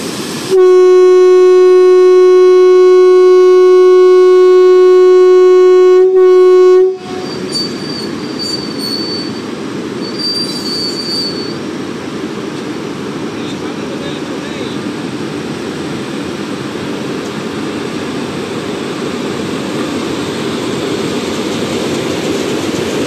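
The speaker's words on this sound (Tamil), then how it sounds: "அந்த ரயில் ஒரு புறப்பாடை தான் தற்போது நீங்கள் பார்க்க போகிறீங்க" A Velankanni–Nagercoil special train sounds a long, loud, steady horn at the station for about six seconds, then rumbles off with a continuous roar of wheels and carriages as it departs.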